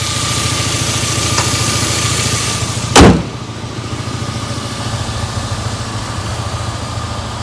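High-mileage 2004 VW Passat Estate idling close by with a slightly rough exhaust, a steady low rumble broken by one sharp knock or door-like thud midway.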